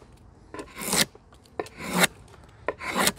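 A drawknife shaving the corners off dry wood, three rasping strokes each building from a light scrape into a louder, rough peeling pull before stopping abruptly, close up with no talking.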